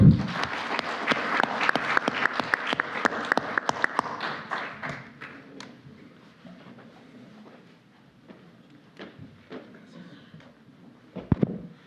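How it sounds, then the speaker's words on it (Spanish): Audience applause at a legal panel event, a burst of many hands clapping that fades after several seconds, followed by scattered taps and soft room noise. "para quien solicito un fuerte aplauso, por favor."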